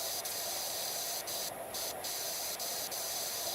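A power washer sprays steadily in PowerWash Simulator 2, a continuous close hiss with brief bursts of brighter spray layered on top.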